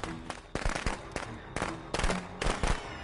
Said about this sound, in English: Oh, the firecracker saves him.